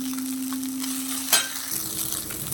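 Poha with coriander is stirred in a hot pan, a steady soft sizzle with scraping spoon strokes and one brief louder scrape midway, no voices.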